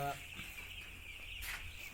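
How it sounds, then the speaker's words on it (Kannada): Eight-day-old broiler chicks on a poultry farm cheep in a faint, continuous high chorus, quiet and distant-sounding against low background rumble. "ನಮ್ಮ ಕೋಳಿ ಮರಿಗಳು ಬಂದು ಬೈಲೂರು ಕೋಳಿ ಮರಿಗಳು ಬಂದು ಎಂಟು ದಿನ ಆಯಿತು"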